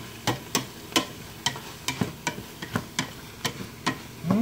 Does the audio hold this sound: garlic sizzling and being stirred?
yes